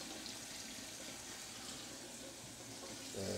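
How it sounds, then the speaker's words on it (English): Hot water from a sink tap runs in a steady, even rush, close and continuous, with a slight swell at the very end as glass candle jars are set underneath to loosen wax. "Set it in the sink under the hot water."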